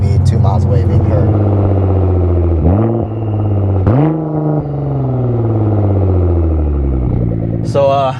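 A Nissan GTR with a valveless titanium exhaust is revved hard and close, the engine climbing and falling through several throttle blips, loud and raspy, with voices talking over it.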